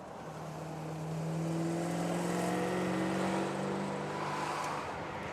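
A car overtaking another vehicle on an Australian road, heard from inside a moving car as a steady engine drone rises and swells mid-clip before settling, with no talk.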